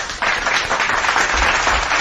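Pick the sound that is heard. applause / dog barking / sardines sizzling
applause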